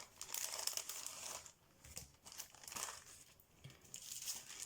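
Gift wrapping being opened by hand, a run of close, fairly quiet crinkling and crumpling bursts of paper and plastic with short pauses between them, no talking.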